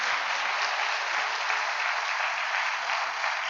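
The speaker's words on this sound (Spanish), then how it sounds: "te queremos dar un aplauso de cariño y de bienvenida a este lugar." A church congregation gives steady applause of welcome, dense and even, with the clapping sustained at a constant level throughout and no speech over it.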